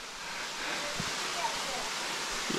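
A waterfall on New Zealand's Banks Peninsula sends a steady, broadband rush of falling water through the whole stretch, even and continuous at moderate distance with a few faint incidental knocks.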